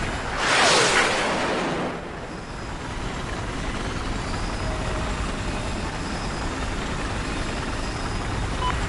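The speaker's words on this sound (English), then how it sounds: "I'm not dead sure what I'm going to do with this helicopter." A helicopter in the video game Battlefield 4 swells into a loud whooshing rotor pass in the first two seconds, then settles into a steady broadband engine and rotor roar that drones on for the rest, with no talking.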